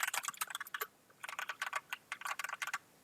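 Keys clatter on a computer keyboard in quick bursts of light clicks, a run of typing, a short pause, then another steady flurry, close and fairly quiet.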